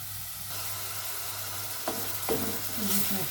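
Onions fry in butter with a steady, soft sizzle, while a spoon stirs the pan a few times near the end, adding brief scraping strokes over the continuous crackle.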